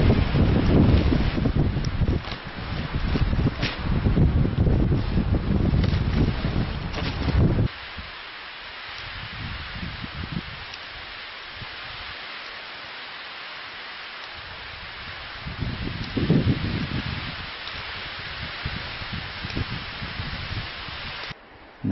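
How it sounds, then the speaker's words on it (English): Strong wind roars across an exposed winter ridge summit, loud and buffeting for the first several seconds, then easing to a lower rush before gusting up again near the end. "hopefully find a place that's out of this wind"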